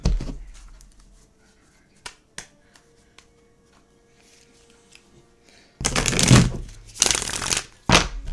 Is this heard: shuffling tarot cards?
yes